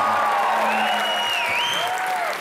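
A studio audience on Comedy Nights With Kapil applauds steadily to welcome a singer, with whistling melodic music sounding over the clapping.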